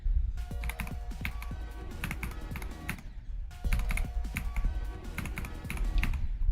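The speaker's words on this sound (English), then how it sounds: "What keyboard do I have? The Wooting ADHE." Fast typing on a Wooting computer keyboard clatters close up in dense bursts of key presses, with a short pause between two flurries and no talking.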